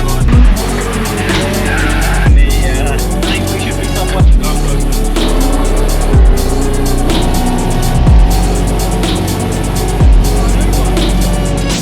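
A Toyota GT86 engine screams at full throttle on a race track, rising through gears in a steady rhythm of shifts every couple of seconds, loud and close, with tire squeal.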